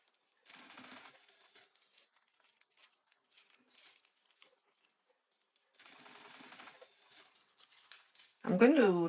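A sewing machine runs a few short stitch bursts on a zip folder, two brief mechanical runs separated by quiet handling, followed at the end by a speaking voice.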